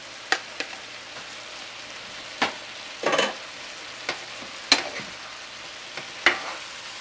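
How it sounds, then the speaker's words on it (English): Flaked codfish being folded into cabbage in a frying pan for a Jamaican cabbage and codfish dish: sparse, irregular spoon scrapes and soft stirring knocks over a faint low sizzle, close by with no talking. "So this is the codfish all flaked. I'm going to add it at this point."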